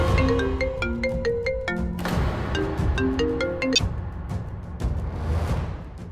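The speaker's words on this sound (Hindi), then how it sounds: "प्रतीक जी, किसका फोन था?" A melodic phone ringtone plays a repeating pattern of bright synthesized tones, fairly loud and close, with no talking.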